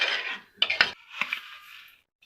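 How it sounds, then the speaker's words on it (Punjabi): A spoon stirs milk mixed with gram flour in a metal pan, with scraping swishes and a few quick clinks against the pan's side, close and moderately quiet. "ਤੇ ਉਹਨੂੰ ਵੀ ਪ੍ਰੋਪਰਲੀ ਮਿਕਸ ਕਰਨਾ ਹੈ।"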